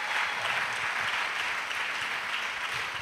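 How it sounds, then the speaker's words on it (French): A congregation applauding in church during a pastoral testimony session, a dense steady patter of many hands clapping together, sustained and even throughout. "Acclamation à Jésus-Christ"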